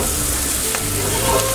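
A knob of butter sizzling in a hot pan with mushrooms before fresh pasta goes in, a loud, dense, continuous crackle close up with light stirring.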